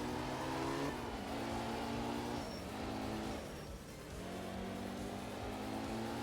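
Rally car engine in the Art of Rally video game, a steady droning exhaust that dips briefly as the driver lifts off, then climbs again, loud and continuous with no talk.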